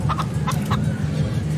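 Chicken clucks from Minecraft: Story Mode, a quick run of short clucking notes over a steady low background hum, with no talking.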